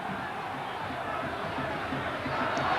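A football stadium crowd at a Napoli versus Juventus match gives a continuous dense murmur and roar that swells slightly toward the end.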